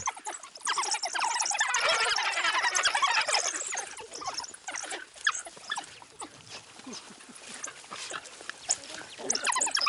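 A pack of endangered African wild dogs chatters with rapid high-pitched twittering yelps and whines, dense at first and then thinning into scattered calls, fairly close and fairly loud.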